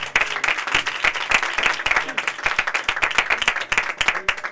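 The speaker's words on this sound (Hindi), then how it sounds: "आइए जोरदार ताली बजा देंगे।" A church congregation at a night evangelical meeting applauds loudly, steady fast clapping from a large crowd filling the whole stretch, with a voice briefly audible beneath.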